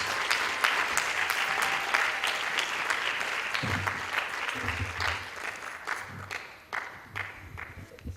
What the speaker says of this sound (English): So let's give Aryan a big round of applause.